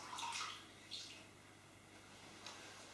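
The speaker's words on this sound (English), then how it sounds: "Just going to have to rinse my hands a little bit." Hands rinsed under running kitchen tap water while preparing a trifle, a soft steady trickle and splash with a few brighter bursts, close but fairly quiet.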